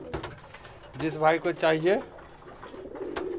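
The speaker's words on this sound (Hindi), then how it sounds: "सेल के लिए ये सिराजी कबूतर" Siraji pigeons coo in two rolling, throaty calls close by, with someone speaking Hindi briefly over the start and end.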